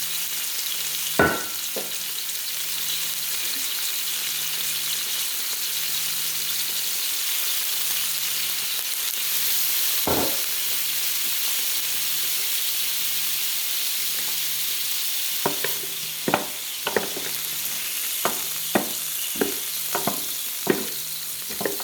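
Shrimp, ginger and mushrooms stir-frying in hot oil, a constant close hiss with a low steady hum, a few isolated knocks and then a run of quick rhythmic spatula taps near the end.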